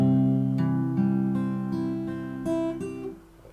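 An acoustic guitar plays a song's chord progression: sustained strummed chords changing every half second or so, close and clear with ringing overtones that fade toward the end.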